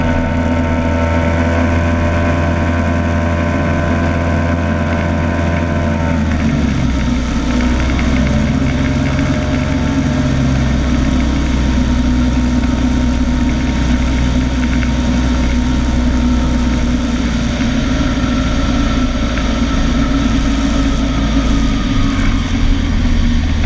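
A Hawker Hurricane aircraft engine runs steadily at about 5,100 RPM, a loud continuous propeller drone that shifts pitch slightly partway through and then holds, with no voices.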